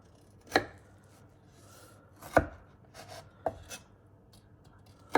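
A knife cuts a cooled almond shortbread into sixteen squares: a handful of distinct, crisp chopping thuds against a board, spaced irregularly, close and clear with quiet between strokes.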